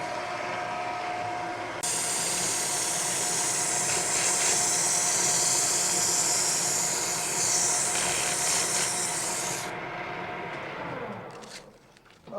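Sustained loud power sanding of a wooden cylinder pattern, a steady broadband whir running nearly unbroken for about eight seconds before cutting off and leaving a quieter hum.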